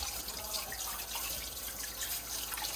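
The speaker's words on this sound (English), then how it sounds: "And then do a quick little rinse after they soaked in the water." Tap water runs into a sink as cleaned medical instruments are rinsed after soaking, a soft steady trickle and patter heard faintly and alone.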